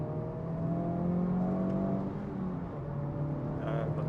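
A sports car engine in sport mode hums steadily from inside the cabin, its pitch climbing gradually as it accelerates, with a faint voice briefly audible.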